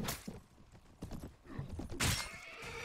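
A horse in the medieval combat video game Mount and Blade, with clattering hooves, thuds and a loud whinny near the end, close and prominent amid chaotic battle noise.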